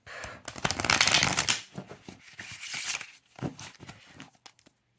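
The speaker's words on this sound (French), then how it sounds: "Donc vous voyez, c'est très facile de mélanger le tas." Deck of flexible, glossy tarot cards shuffled by hand up close, with a long riffling burst followed by shorter flicks and slides of cards tapering off.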